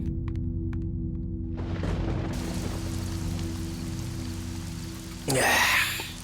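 Steady rain falls in a dense hiss over a low droning background in a dubbed South Indian film scene, with a louder burst of splashing or rumbling near the end and no speech.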